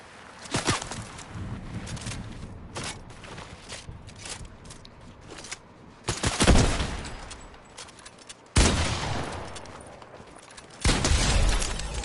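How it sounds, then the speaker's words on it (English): Shotgun blasts in the video game Fortnite: several heavy, booming shots spaced seconds apart, each with a long tail, over lighter game noises and footsteps in between. "Shotgun shoots like a fucking snail, so slow for no reason."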